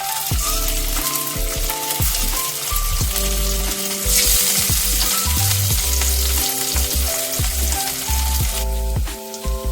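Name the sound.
boiled potato pieces frying in hot oil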